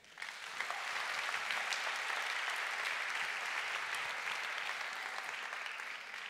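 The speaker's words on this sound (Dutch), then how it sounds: "Mag ik een groot applaus voor Anouk Keijzer." A large audience gives steady, sustained applause for a speaker at a talk on intimacy and wellbeing, a dense, even wash of clapping that swells quickly and holds at a moderate level.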